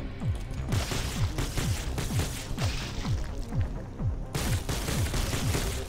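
Rapid gunfire rattles in the roguelike video game Doomsday Hunters, a steady stream of punchy low thuds repeating about three or four times a second over a constant background din.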